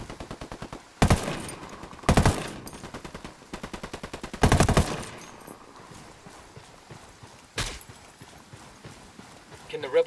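Rifle gunfire in Ghost Recon: a steady run of rapid automatic shots with several louder, heavier blasts spaced a second or so apart, close and sharp, with someone talking over it.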